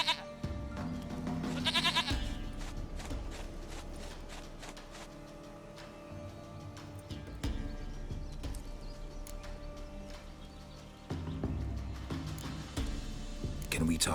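Goat bleats from The Witcher 3 recur across a long stretch of game ambience, with occasional hoof clatter and some voices talking, mostly moderate and intermittent.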